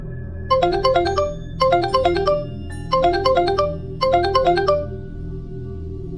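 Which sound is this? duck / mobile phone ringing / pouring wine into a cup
mobile phone ringing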